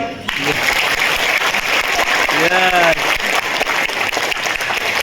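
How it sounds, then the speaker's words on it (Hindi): An audience at a motivational talk claps steadily and loudly for several seconds, with a voice briefly speaking over the applause and a short tonal note partway through. "बजाओ ताली"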